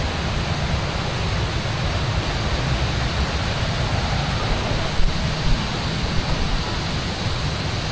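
Tanawan Falls waterfall in Dingalan, Aurora rushes in a loud, dense and constant roar, heard close and steady throughout.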